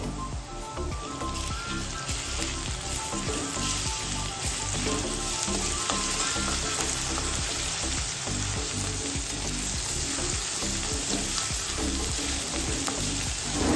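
Chopped onion with grated ginger and garlic fry in hot oil for pav bhaji, giving a continuous close sizzle with soft stirring taps and no voices.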